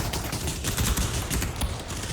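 Rapid bursts of gunfire in the VR game Pavlov VR, on a Venice Rialto map, dense overlapping shots crackling loudly and continuously without pause.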